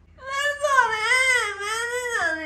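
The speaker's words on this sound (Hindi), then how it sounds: "बिल्ली का बच्चा रोने लग गया" A young kitten cries in a long, rising and falling mew that carries on for about two seconds, close and fairly loud, with a short second cry at the end.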